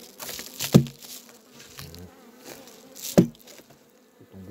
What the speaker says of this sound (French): Tomber le peu d'abeilles qu'il y a là-dedans